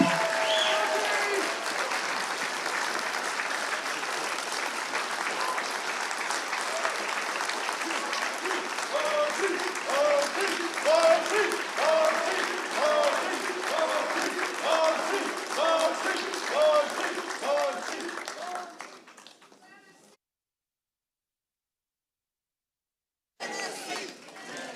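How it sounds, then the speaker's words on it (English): Audience applause for two candidates at a Tennessee gubernatorial forum: sustained, dense clapping from a crowd with some chatter, holding steady for about twenty seconds before fading into silence. "How about a round of applause for both candidates?"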